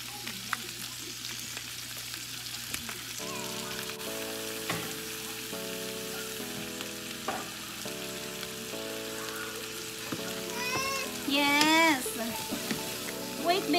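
Shrimp fry in a pan with onion for coconut-milk ginataang hipon, a steady sizzle running under soft background music, with a brief voice rising near the end.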